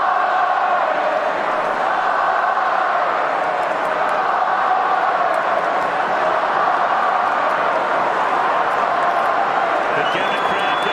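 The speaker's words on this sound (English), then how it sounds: "The Gannett crowd going mad." Stadium crowd roaring and cheering at a Brisbane Lions versus Collingwood Australian football match, a sustained dense wall of voices, loud and continuous, with commentary talk over it.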